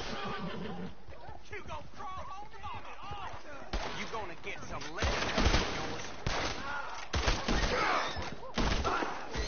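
Gunshots ring out in a Red Dead Redemption 2 town, several sharp cracks spread over the stretch, mixed with horse neighs and hoofbeats while people talk throughout.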